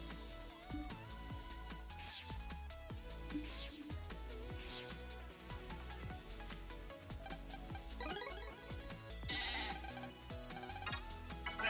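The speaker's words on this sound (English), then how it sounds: "best voice actor in the game. Meet Goat" Goat character in a Starforce video game bleats repeatedly over busy electronic game music, with several short, clear bleats recurring across the stretch among chiming sound effects.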